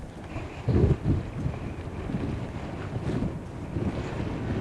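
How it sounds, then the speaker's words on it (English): Strong wind blows outdoors at an open pit holding abandoned cars and boats, a steady rumbling microphone buffet with a few louder gusts near the start. "Very windy."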